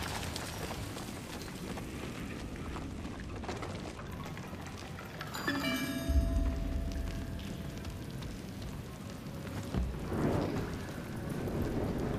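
Steady rain falls in the video game Trek To Yomi, an even hiss of drops filling the scene, with a brief thunder-like rumble and a few tonal game sounds in the middle. No one speaks.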